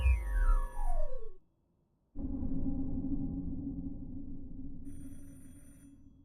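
An electronic phone rings in a video game set in a house, a clear synthetic tone that sweeps downward, breaks off into silence, then returns as a steady low ringing hum with a faint high chime near the end.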